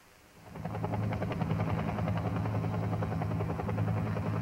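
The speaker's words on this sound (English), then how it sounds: "Gunships are normally the first helicopters to arrive at the scene of an exfiltration" Military gunship helicopter flying in a simulated combat exfiltration mission, rotor chop building quickly then holding a steady loud thudding drone.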